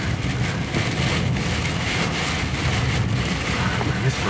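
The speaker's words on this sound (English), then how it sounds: "this rain is horrible." Heavy rain pours steadily and loudly outdoors, a dense constant wash of noise with some wind buffeting the microphone.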